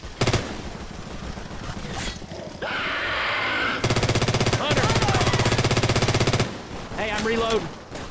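Rapid automatic gunfire with incendiary rounds in the zombie shooter game Left 4 Dead 2, loud close bursts of dense rattling shots broken by short pauses, with groans and gasps between volleys.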